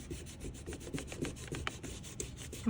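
Oil pastels pressed hard and rubbed across paper while blending, a quiet, close scratchy rasp in quick repeated back-and-forth strokes.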